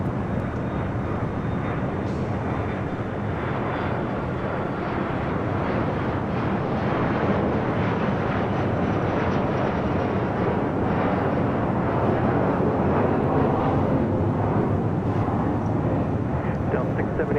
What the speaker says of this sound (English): And a American Dreamliner now rolling down 7 left there on the south side.